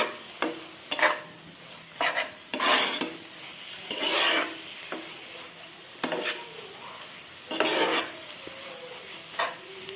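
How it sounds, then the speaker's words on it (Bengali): Punko greens being stirred with poppy seed paste in a pan, heard as repeated close scraping and rasping strokes of a spatula over a soft sizzle, with brief gaps between strokes. "পোস্ত দিয়ে একটু নাড়তে হবে শাকটা"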